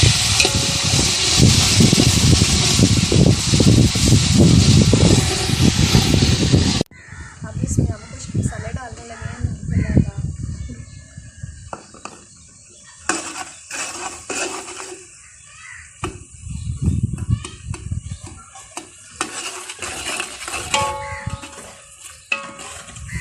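Browned onions fried with tomato, ginger and garlic paste, stirred in a pot: a loud steady sizzle at first, then scraping spoon strokes, clinks and softer frying, with crows cawing in the background and someone speaking Hindi in between.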